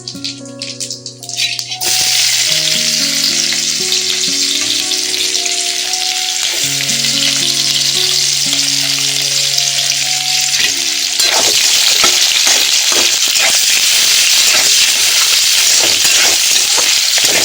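Chopped onions hit hot oil for a Bengali jackfruit curry, a loud, close, steady sizzle that continues without pause, turning rougher and crackly toward the end, with a brief musical tone before it starts.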